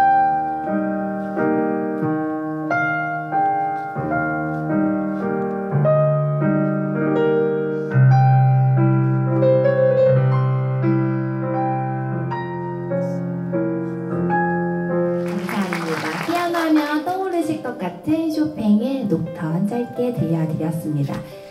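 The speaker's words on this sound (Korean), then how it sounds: "그러면 피아노 마지막으로 악기 소리 들려드리도록 할게요" Solo piano played on stage at a classical concert, a steady flowing melody over sustained chords, close and clear, with a brighter, busier flourish of notes near the end.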